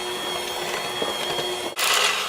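Electric hand mixer beating flour and baking powder into dog cookie dough, a steady close whirring drone that dips briefly near the end, then resumes louder and brighter.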